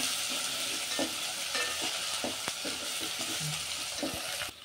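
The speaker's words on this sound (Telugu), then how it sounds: "ఆయిల్లో మంచిగా వేపుకోవాలా. అల్లం వెల్లిగడ్డ వేగాల, మంచిగా వేగాలి అల్లం వెల్లిగడ్డ" Ginger-garlic paste fries in hot oil with a steady, dense sizzle, broken by intermittent soft scrapes of a spoon stirring it close by; no talking.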